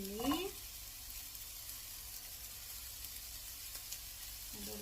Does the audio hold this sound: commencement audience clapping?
no